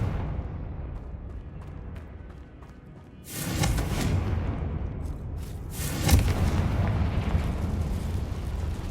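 A Confringo blasting curse in the Hogwarts Legacy video game goes off as a sudden booming explosion, followed a few seconds later by a second blast with a lingering rumble.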